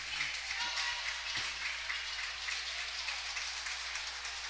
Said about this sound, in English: And a big round of applause for Elliott.